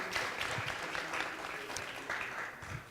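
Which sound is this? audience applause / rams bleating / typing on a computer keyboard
audience applause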